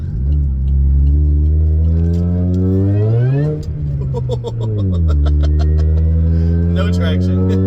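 Turbocharged 2007 Saturn Ion Redline with a ZZP kit revving hard close by, pitch climbing, dropping and climbing again as its street tires spin without traction on a wet road; speech is faint under the engine.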